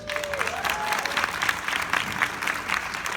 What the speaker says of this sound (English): If you're with me on that, a round of applause.